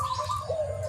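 A zebra dove (perkutut) gives a soft, close coo, a short tonal call sliding downward in two connected phrases over faint background hum.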